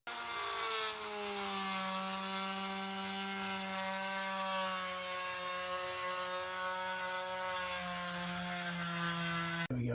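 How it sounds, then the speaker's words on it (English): An oscillating multi-tool cuts through a shower wall panel inside a motorhome, giving a steady, loud, continuous buzzing drone with strong harmonics that holds unbroken for the full length and stops abruptly at the end. "get access behind this panel by using a multi-tool to cut the panel off"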